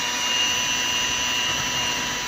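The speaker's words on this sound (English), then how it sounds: "We've got to mix this up, and then we'll be done with this mixer" An electric mixer whirs steadily and loudly through red velvet brownie batter, a dense continuous motor drone with no pauses and no voices.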